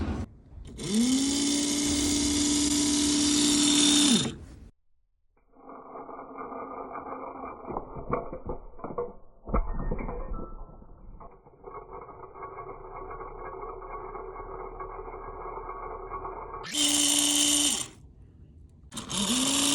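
Small geared wire-crimping mechanism motor run at 12 volts with no load, whining steadily in two bursts with a rougher, lower mechanical rattle between them, close and loud.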